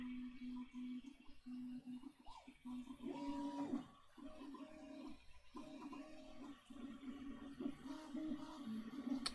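A Prusa i3 MK3 3D printer with a noisy, rattling pulley runs with steady, shifting motor whines and a buzzing rattle, close and continuous for the whole stretch.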